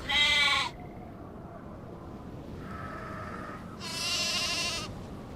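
Two loud, harmonic sheep bleats, one short and one longer, from the Nancy Drew game The Haunting of Castle Malloy, with a fainter, lower bleat in between over a quiet farm background.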